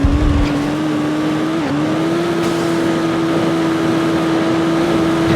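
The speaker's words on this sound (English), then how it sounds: "hear more of this great engine sound" Car engine from the Midnight Club II racing game holds a loud, steady high drone, its pitch dipping briefly once before settling again, alone with no talk.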